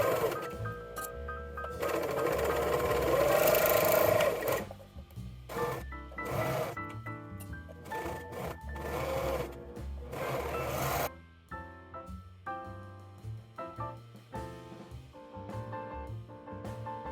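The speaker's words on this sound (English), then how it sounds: "overlock the shoulder seams and the side seams" An overlocker stitches the shoulder and side seams of a knit dress in irregular bursts of mechanical whirring and rasping, with pauses and handling noises between runs, close and moderately loud.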